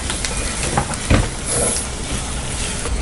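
Tomatoes hitting hot frying onions in a pan for a vanjaram fish curry, giving a steady hiss and sizzle throughout with a brief louder burst of spatter in the middle.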